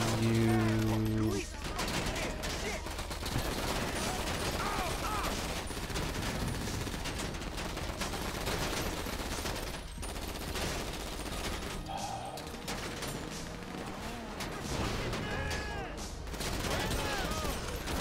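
Rapid bursts of video game gunfire from GTA, with dense automatic shots and volleys running loud and nearly continuous throughout, while a voice talks over the action.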